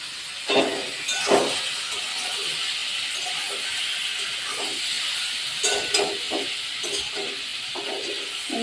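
Mutton cut into small pieces drops into a hot pot for Eid mutton biryani, setting off a steady hiss and steam with occasional clinks of a utensil against the pot, close and fairly quiet.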